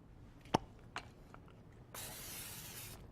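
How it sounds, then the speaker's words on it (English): Cooking spray hisses steadily into a casserole dish for about a second in a quiet kitchen, preceded by a couple of sharp clicks and knocks of handling. "So then you're going to take a casserole dish, spray it."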